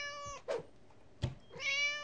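A cat meows several times in the horror game Scary Teacher. The short, tonal cries come close and fairly loud, the first and last held longer, with brief thuds between them and no talking.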